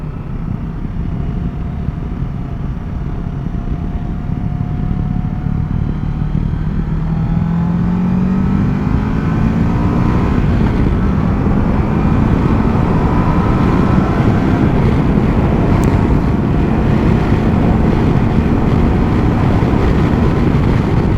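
A 2022 Kawasaki Versys 650 motorcycle rides onto a freeway in Spain, its engine droning loud and continuous with heavy wind rush, pitch rising slowly as it accelerates through the gears.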